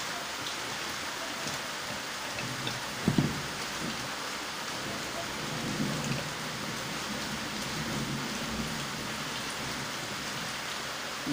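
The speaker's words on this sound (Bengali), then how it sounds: "বৃষ্টি পড়ছে, বৃষ্টি" Rain falls in a steady, even hiss throughout, with a couple of soft thuds or bumps mixed in.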